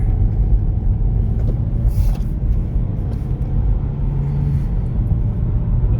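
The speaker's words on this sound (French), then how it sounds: "J'appuie sans forcément trop appuyer et honnêtement, la voiture elle n'a aucune difficulté à prendre sa vitesse de croisière." A 2023 Kia Forte GT-Line in normal drive mode accelerates gently, heard as a loud, steady low engine and road rumble from inside the car with no speech.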